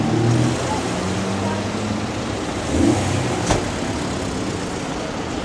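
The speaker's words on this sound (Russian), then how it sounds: "Что за машина, не знаю. Но машина прикольная." A big vintage car idles and revs on a street in St. Julian's, Malta. The engine makes a loud, close, continuous rumble with a brief surge partway through, and voices can be heard over it.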